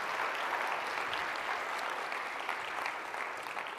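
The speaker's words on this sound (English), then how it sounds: "So one more round of applause for this group." Dense, steady audience applause fills a SendOutCards event hall, sustained and fairly loud throughout with no pauses.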